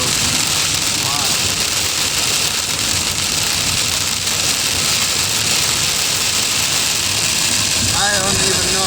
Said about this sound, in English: Now we've got some sleet coming down.